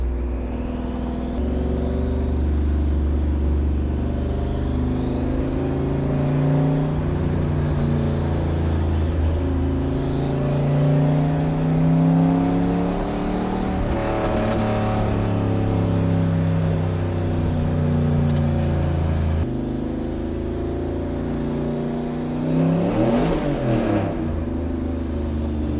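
A Corvette on Michelin Pilot Sport Cup tires cruising at highway speed, its steady engine drone and tire roar continuous and loud, with gear-change dips and a brief rev swell near the end.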